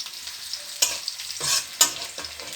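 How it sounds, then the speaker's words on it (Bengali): Chopped onions and green chillies sautéing in oil in a pan, a hissing sizzle broken by a few distinct stirring scrapes and clinks of the spatula, close up and with no one talking. "তারপর এখানে আমি দিয়ে দিচ্ছি পেঁয়াজ মরিচ কুচিগুলোকে। দিয়ে এগুলোকে একটু বাদামি কালার হওয়া পর্যন্ত কষিয়ে নিব।"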